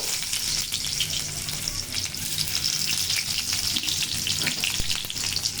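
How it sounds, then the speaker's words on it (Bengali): Onion frying in hot oil, a steady, dense sizzle that stays fairly loud and even throughout, with a few faint clicks and scrapes of stirring mixed in and no talking. "তো আমার তেল গরম হয়ে আসছে, আমি এখানে পেঁয়াজটা দিয়ে দিব।"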